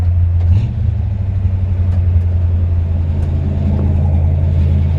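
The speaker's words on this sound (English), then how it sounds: "A nice sounding exhaust, kind of aggressive, but sounds good." A 1954 Chevrolet 3100 five-window pickup rolls along with a deep, steady exhaust rumble, somewhat aggressive in tone, heard from inside the cab and holding an even drone throughout.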